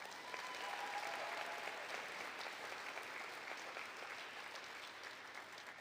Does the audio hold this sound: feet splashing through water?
no